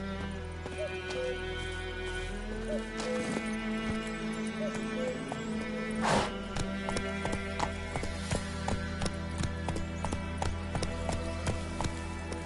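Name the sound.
horse Roach galloping in a video game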